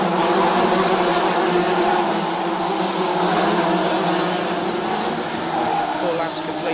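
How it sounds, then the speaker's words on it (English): Rotax racing karts round the final corner of a lap at Muscat Speedway in Oman during a race, their engines a loud, steady, buzzing drone throughout, with race commentary talking over it. "as we watch Kyle Kumaran driving around the final corner of the lap with Jacob Robinson in hot pursuit"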